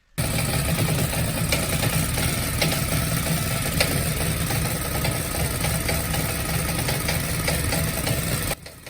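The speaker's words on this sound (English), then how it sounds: "I pulled the cord again and the engine spluttered into life" A Suffolk Super Punch 17-inch petrol lawnmower engine, freshly restored with oil leaks fixed, idles with a continuous rough, knocking putter, loud and steady, then cuts off abruptly.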